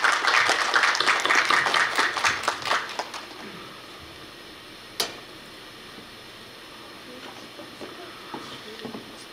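Audience applause at a Korea University KU-KIST graduate school entrance ceremony welcoming a new student, loud, dense clapping for about three seconds that quickly fades to scattered claps and room quiet.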